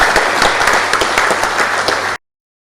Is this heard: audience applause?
yes